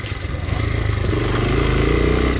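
A dirt bike engine on a trail ride revving hard at full throttle, a loud, close, sustained roar that rises slightly as it holds.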